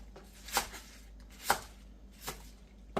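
A knife cuts ponytail radish into 3 to 4 cm pieces for kimchi: three slow, evenly spaced chops on a board, each crisp and close, with quiet pauses between.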